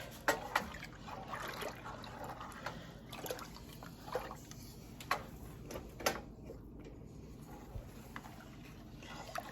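A spoon stirs a pozole stew base in a pot, giving soft wet sloshing and occasional clinks against the side, quiet and close over a low steady background hum.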